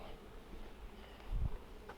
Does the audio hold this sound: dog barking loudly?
no